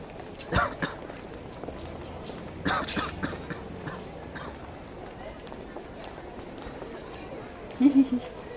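A person coughs several times in short harsh bursts, spaced apart, amid background chatter and crowd noise.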